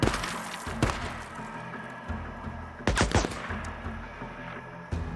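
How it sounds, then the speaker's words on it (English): Sniper rifle shots in the Days Gone video game ring out as a few sharp, loud cracks spaced seconds apart, each with a short decay, over a low game background. "I got a few shots left with sniper."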